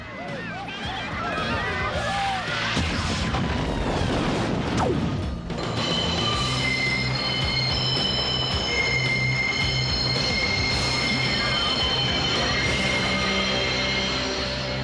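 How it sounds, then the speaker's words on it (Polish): Runaway cartoon trains rumble along with piercing metallic wheel squeals, steady and loud, high screeching tones ringing over the continuous rolling noise. "Pociągi wymknęły się spod kontroli."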